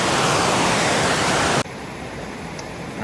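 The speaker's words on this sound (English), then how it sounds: "below that waterfall there" Rushing water of a waterfall on a brook trout creek, loud and steady broadband roar filling the first half, then dropping to a quieter continuous flow.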